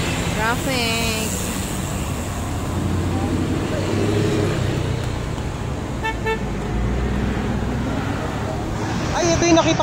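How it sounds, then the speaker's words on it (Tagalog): Busy roadway traffic along the Marilaque highway in the Philippines, a continuous rumble of passing cars with a brief horn toot near the start and another near the end, while people talk over it. "Traffic."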